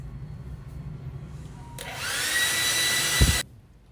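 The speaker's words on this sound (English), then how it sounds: "Now I'm gonna blow dry my hair and see what the final result is." A hair dryer blows hair dry during a home keratin treatment, switching on midway with a loud, close, steady whoosh, a brief thump near the end, then cutting off abruptly.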